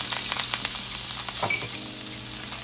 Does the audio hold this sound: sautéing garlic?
yes